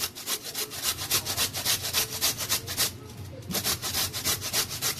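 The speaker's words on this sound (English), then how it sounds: "So I got to be very careful when I'm grating" Cabbage scraped against a hand grater to make Belizean coleslaw, a steady run of close, rhythmic rasping strokes with a brief pause near the end before the strokes resume.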